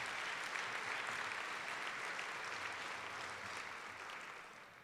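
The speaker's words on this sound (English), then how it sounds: "If we could give a round of applause to all those people" A conference audience gives a sustained round of applause at a keynote event, dense steady clapping that fades slightly toward the end with no voices over it.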